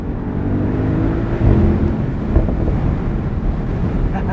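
A 2023 Mercedes-AMG SL 63 with its 4-liter bi-turbo engine and all-wheel drive runs down back roads, a steady loud engine drone heavily mixed with wind buffeting the microphone, no talking.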